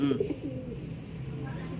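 Soft coos from racing pigeons in an aviary nearby, a low rolling murmur over quiet background noise.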